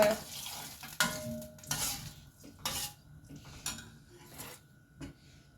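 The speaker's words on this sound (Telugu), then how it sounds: "ఇప్పుడైతే నేను మజ్జిగ మొత్తం అయితే పోసేసాను." A utensil stirs buttermilk for a fenugreek buttermilk dish in a pot, giving a series of soft scraping strokes and light clinks at an irregular rhythm, close and quiet.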